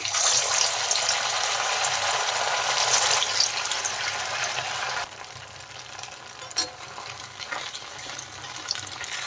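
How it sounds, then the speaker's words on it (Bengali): Potato and semolina fritters frying in very hot oil in a kadai, a steady loud sizzle that drops to a softer crackle partway through, with a few sharp pops and no talking. "কড়াইতে দেখেন আমি তেল চাপিয়ে দিয়েছি আর তেল কিন্তু খুব গরম হয়ে গেছে এখন আমি বড়াগুলো ভেজে নেব এইভাবে"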